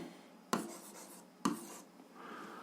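Pen strokes writing out an algebra solution, two sharp taps with short scratching runs after each, close and fairly quiet.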